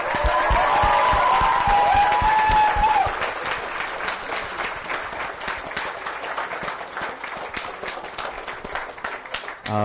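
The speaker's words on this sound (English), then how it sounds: "I think we're going to need one more round of applause for that one." A mosque audience at a poetry night breaks into loud applause with cheers and whistles at first, then the clapping continues at a steadier, slightly softer level.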